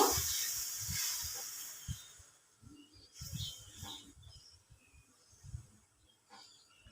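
Steady sizzling hiss of sambal frying in hot oil in a wok, with scattered crackles and soft clinks of a spatula against the pan, fairly close.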